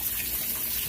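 A Kenmore washing machine fills with water, giving a steady, even rush of inflowing water that runs continuously at close range with no voices.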